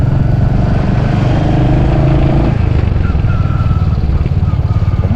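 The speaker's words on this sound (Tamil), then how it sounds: "ஏன் வண்டி இவ்வளோ டைம் ஆஃப் ஆகுதுன்னு எனக்கும் தெரியல." Motorcycle engine on a slow forest ride up a hillside, running rough and loud close by, its rumble changing midway as the engine falters and dies toward stalling.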